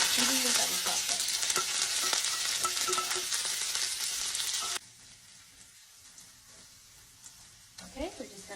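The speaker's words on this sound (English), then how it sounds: "we're just gonna make sure this is sort of sauteed to a light golden brown" Chopped ingredients sauté in hot oil with popped mustard seeds for upma, a steady loud sizzle with stirring scrapes that drops abruptly to a quieter crackle halfway through.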